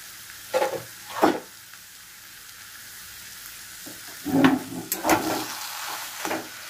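Grated coconut stirred into taro leaves (kochur shak) frying in a pan, a low sizzle under a few sharp spoon scrapes and clatters in short bursts; no talking.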